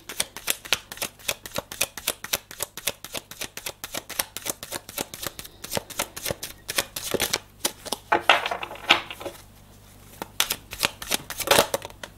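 Tarot cards are shuffled and drawn, with a long run of quick, close riffling flicks and slaps, briefly pausing before a few final card snaps.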